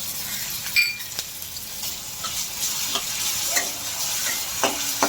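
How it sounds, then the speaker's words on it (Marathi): Green chili and ginger-garlic paste sauté with cumin seeds in a hot pan for a vegetable stuffing: a steady close sizzle broken by occasional spoon scrapes and taps, with no voices. "चांगलं परतून घेऊ."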